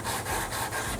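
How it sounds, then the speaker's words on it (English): Wet sanding on a car part using high-grit pads sprayed with water: a steady, close, gritty rubbing hiss with a faint back-and-forth pulse, heard alone. "So we'll go ahead and spray this down with some water, go ahead and get into sanding."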